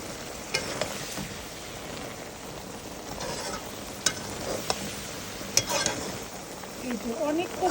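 Taro leaves cooking in a pan alongside a large fish head, a steady broad sizzle running throughout with occasional sharp utensil clicks and scrapes as the greens are stirred.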